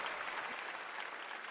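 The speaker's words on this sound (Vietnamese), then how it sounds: "Một tràng pháo tay nồng nhiệt cho hai cha con Pinocchio." Warm applause from a TV studio audience after a dance act on a Vietnamese weight-loss dance competition show, steady dense clapping filling the whole stretch with no voices over it.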